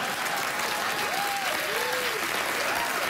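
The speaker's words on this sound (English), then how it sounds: "applause begun in Lesbian Row there" Applause from a late-night talk show studio audience, dense and steady clapping throughout, with faint voices mixed in beneath it.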